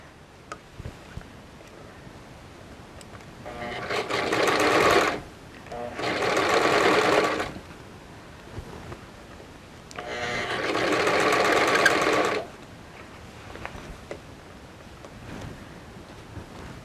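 Sewing machine stitching a princess-seamed western show jacket, running in three distinct bursts of a few seconds each separated by quiet pauses, fairly loud and close.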